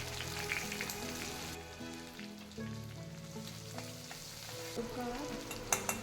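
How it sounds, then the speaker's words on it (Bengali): Grated ginger and bay leaves fry in hot oil, giving a continuous close sizzle with stirring, while faint tonal music plays underneath. "আদাগুলোকে ভেজে দিয়ে দেবো"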